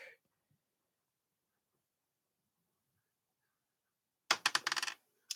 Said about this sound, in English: So let us roll the dice real quick